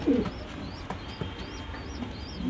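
Pigeons in a loft, including a male Fulshira breeding cock, give soft, low cooing calls near the start and again at the end, with quieter chirps and shuffling in between.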